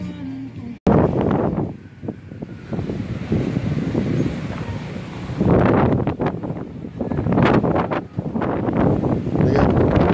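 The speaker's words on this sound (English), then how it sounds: "Damn, it's windy." Strong wind buffeting a microphone outdoors at a Texas independence celebration, loud rumbling gusts that surge and ease throughout.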